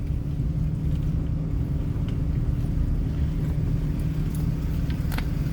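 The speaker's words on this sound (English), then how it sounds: "I'm showing again as I'm driving out of this construction project." Steady low engine rumble of a delivery vehicle pulling out of a construction site on what was once farmland, a continuous close drone with faint wind buffeting and no voices.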